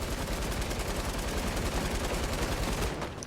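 Rapid gunfire in the video game Fortnite, a dense continuous burst of shots filling the whole moment, loud and sustained without speech.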